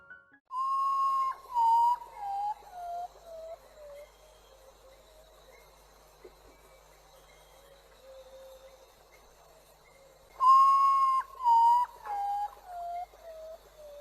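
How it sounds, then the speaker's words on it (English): Ghostbird call: a mournful descending whistle-like series of falling notes, heard twice with a long quiet stretch between, clear and fairly distant over faint background hiss. "Wait till you hear the sound that this Ghostbird makes."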